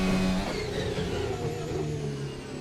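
An F1 car from the F1 2024 game at the Italian GP, its engine droning steadily at high revs into the first chicane on hard tyres, pitch dipping slightly as it slows, loud and close with no other sounds.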